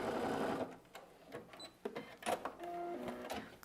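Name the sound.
sewing machine backstitching a fabric bag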